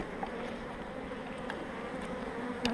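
Many honeybees buzz steadily up close at an open, well-developed hive, a dense continuous hum with a few individual bees droning nearer now and then.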